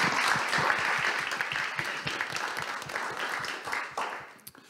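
Conference audience in Latvia applauding steadily, a dense wash of many hands clapping close and loud for several seconds before tapering off near the end, with no talk over it.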